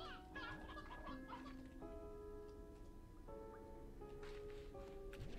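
Chickens in the Slime Rancher 2 video game cluck repeatedly, short clucks layered over a bright, sustained synth music bed.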